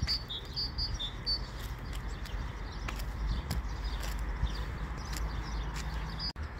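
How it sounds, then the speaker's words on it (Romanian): Birds chirp and sing outdoors in spring, with quick repeated high twitters at the start and scattered calls after. They are faint against a steady low rumble of distant traffic. "ascultați cât de frumos cânt păsările"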